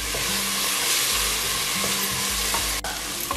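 Ground masala stirred and frying in hot oil in a pan for pulao, a steady loud sizzle with scraping stirs throughout, no voices.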